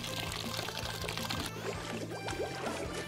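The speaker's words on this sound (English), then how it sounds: "Fill the jacuzzi with water." Water pours steadily into a small toy jacuzzi, a continuous close splashing trickle under background music with a few light clicks.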